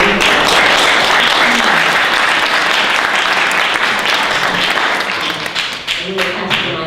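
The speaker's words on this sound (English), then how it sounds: "I'd like you to give a short round of applause to my wonderful" Loud, sustained applause from an audience at a panel discussion, thick steady clapping that tapers slightly near the end, with faint voices underneath.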